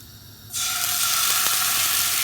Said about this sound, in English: I'm now going to incorporate a tiny bit of fish stock into the pan